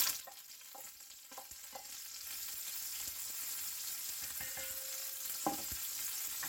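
Onion and celery frying in a pan for a Moroccan chicken tagine, a steady close sizzle with scraping stirs and light clinks of the utensil against the pan, no voices.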